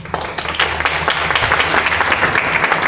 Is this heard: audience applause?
yes